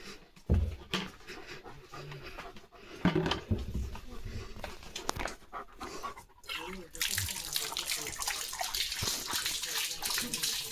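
A German Shepherd named Leo laps and splashes at water close by, wet slurping bursts mixed with panting, while a person's voice is also heard.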